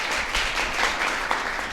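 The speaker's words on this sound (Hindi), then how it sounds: "जोरदार ताली के साथ बुलाना चाहेंगे" Loud applause from an audience at a coaching centre event welcoming Ram Pravesh sir, a brief, dense burst of many hands clapping.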